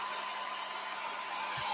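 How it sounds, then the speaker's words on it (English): Hair dryer blowing on low heat for a craft project, a steady close broadband whoosh with a faint motor whine, continuous throughout. "Sometimes you'll hear the change in sound of my hair dryer."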